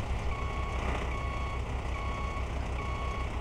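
In a car showroom video game, a reversing vehicle sounds an evenly spaced, repeating electronic beep, four or five tones over a steady background hum of engine and ambience, moderately loud and without talk.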